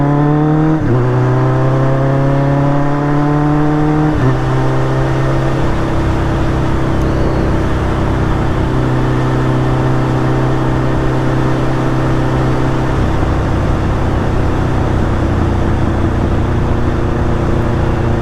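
A motorcycle engine while riding: loud, close drone with the pitch climbing through gear changes, dropping at each shift, then settling into a steady cruising hum under constant wind rush.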